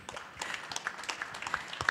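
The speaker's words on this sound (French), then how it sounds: "On peut vous applaudir." Audience clapping at a French business conference on digital tech and the energy transition: scattered, fairly faint applause from a modest room, individual claps distinct and uneven.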